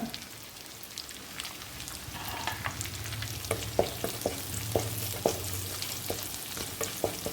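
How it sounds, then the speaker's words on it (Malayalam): Chopped green chillies sizzle in hot oil with ginger and garlic for a chilli chicken dish, a steady crackling fry broken by sharper pops and spatters from the pan, close and fairly loud with no talking. "അതിലേക്ക് നമ്മൾ ഈ പച്ചമുളക് അരിഞ്ഞത് ഇട്ട് കൊടുക്കുകയാണ്"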